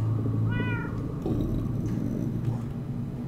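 In the game Minecraft Story Mode, a cat gives one brief meow near the start, clear above a dense rumbling background that continues afterwards.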